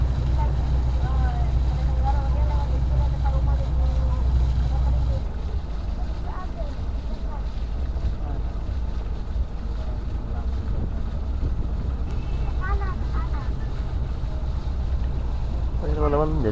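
The Akbar Amanda A1 riverboat travels on the Mahakam from Samarinda, its engine thrumming in a loud steady drone beneath wind buffeting and a voice talking over it throughout.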